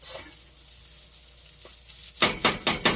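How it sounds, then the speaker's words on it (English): Spoon scraping and stirring rice with butter in a pot: a quiet sizzle at first, then a quick burst of four rhythmic scrapes near the end. "let's give that a stir"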